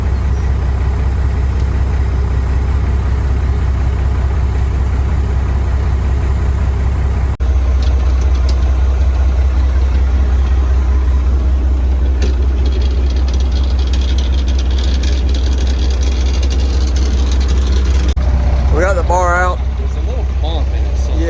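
A spreader truck unloading chicken litter runs with a loud, steady engine rumble throughout, while someone talks over it and brief squeaks and clanks come near the end.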